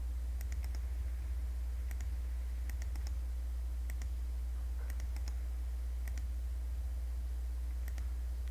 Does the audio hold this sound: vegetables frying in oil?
no